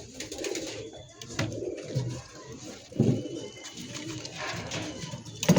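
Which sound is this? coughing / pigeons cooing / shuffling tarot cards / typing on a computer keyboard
pigeons cooing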